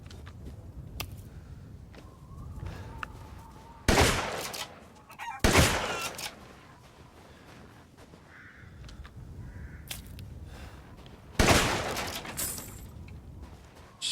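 Chickens cluck and crow in the Resident Evil Village video game, a scattered fowl chatter broken by several sharp, loud bursts that sound like gunfire, with no talking over it.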